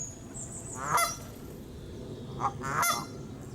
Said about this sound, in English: Okay, Canadian geese again.